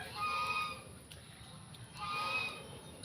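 Two drawn-out honking fowl calls from chickens, a couple of seconds apart, moderately distant over a low background hum.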